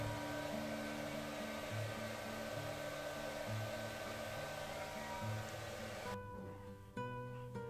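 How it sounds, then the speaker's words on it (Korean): A hair dryer blows steadily as it dries hair, a constant close whirring hum with a faint pulsing undertone that drops briefly near the end. "그리고 드라이기로 잘 말려줍니다."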